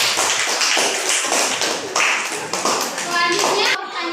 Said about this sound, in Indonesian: Ya, tepuk tangan Pak.